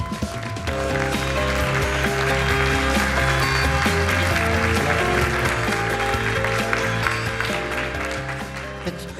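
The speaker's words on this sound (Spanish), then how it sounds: "Invitamos al escenario a George Ellis y lo recibimos con un fuerte aplauso." Audience applause at a science and religion congress in Chile as a speaker is welcomed onto the stage, a dense, steady clapping that fills the room for several seconds with no voices over it.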